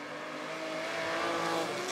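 A historic race car, the number 82, at the Le Mans Classic, passing on the circuit with a rising engine roar that builds steadily louder as it approaches.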